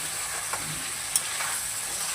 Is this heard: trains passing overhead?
no